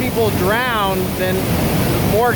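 Rushing river water in Sequoia National Park, a steady loud roar of fast current heard close by, with a person talking over it.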